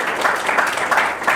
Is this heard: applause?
yes